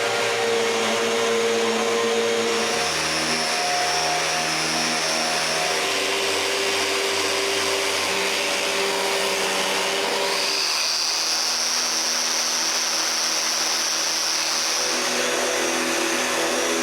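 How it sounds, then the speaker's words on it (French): Vacuum cleaner droning loudly and continuously while sucking up sawdust in a woodworking shop after sanding pine to 220 grit, with a steady whine whose pitch shifts a few times as the nozzle moves. "Je commence par passer l'aspirateur."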